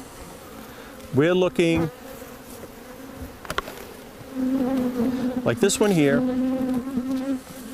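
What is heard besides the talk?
honey bees buzzing on hive frames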